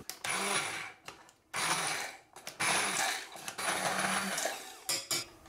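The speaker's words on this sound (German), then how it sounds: "Und das restliche werde ich so etwas pürieren." A kitchen blender purees mustard seeds for coarse-grain Dijon mustard in several loud whirring bursts, each starting abruptly and stopping, with brief pauses between pulses.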